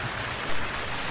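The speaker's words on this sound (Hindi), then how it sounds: "टुनटुनी चिड़िया देखती है कि जोरों की बारिश लगी हुई है" Heavy rain in an animated story: a dense, even hiss of pouring rain, loud and close, continuing without a break.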